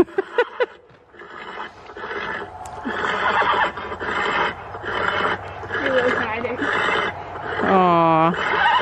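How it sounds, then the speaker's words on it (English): A horse lets out a loud, close neigh near the end, preceded by snorts and huffing, while people talk over it throughout. "That horse is saying something Penny does not want to hear"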